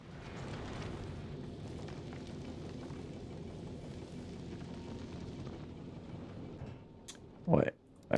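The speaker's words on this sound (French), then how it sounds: "il y a tout qui explose, j'adore" Explosions in Factorio: Space Age blend into a continuous low, rumbling roar that stays fairly quiet and steady, then fades; a voice cuts in briefly near the end.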